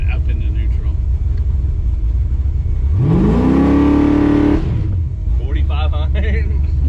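A big-block Chevy C10 pickup engine revs hard in neutral, a loud rising roar that holds for about a second and a half and then falls back to a rumbling idle, with people talking over the engine noise before and after.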